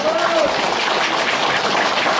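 Audience applause at an indoor forum gathering, a dense steady wash of many hands clapping at even loudness for the whole stretch, with a faint voice tone drifting in briefly near the start.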